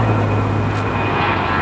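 A propeller airplane passes overhead on a foggy day near a Los Angeles construction site, a loud continuous drone that holds steady throughout with no speech over it.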